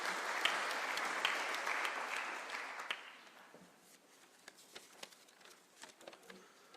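An audience at an international heritage conference in a large hall applauds a dignitary. Steady clapping for about three seconds fades into a few scattered claps.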